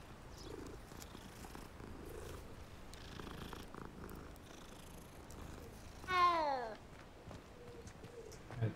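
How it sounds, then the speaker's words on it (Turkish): A cat purring in the Hogwarts Legacy video game, a soft low purr under game ambience with a short bird-like chirp partway through. A voice speaks quietly. "Kediyi severim."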